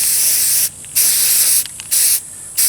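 Aerosol spray can releasing green and dark camouflage paint onto scenery, four loud hissing bursts of roughly half a second each, separated by short pauses, with no talk.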